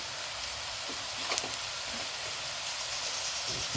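Sweet baby corn fries in a pan with a soft, steady sizzle and hiss, faint and close, with a few small clicks and stirring touches.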